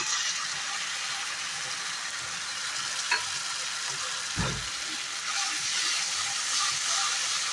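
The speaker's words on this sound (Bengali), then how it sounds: "আবার এটা আমি একটু ভালো করে কষাবো" Spice paste sautéing in oil with ground cashew, melon seeds and tomato for a Bengali jackfruit-seed curry gives a steady close sizzle, with a short stirring scrape midway.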